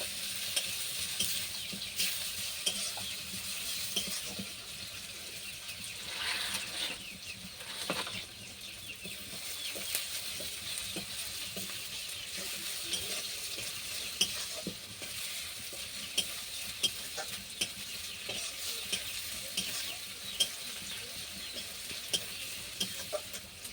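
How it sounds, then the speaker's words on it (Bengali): Onions frying in a pan, heard as a continuous close sizzle with regular scraping strokes of a spatula stirring through them, steady and fairly quiet with no voices, for a fish curry with potato and eggplant. "এই জন্য আগে আমি পেঁয়াজটা ভালো করে ভেজে নেবো"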